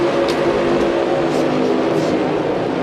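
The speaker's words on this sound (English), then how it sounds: "get the command to fire engines, and start rolling off for the pace laps" Stop-motion NASCAR race cars at Daytona firing their engines and rolling off for pace laps, a steady dense engine drone lasting throughout with no clear revs or pass-bys.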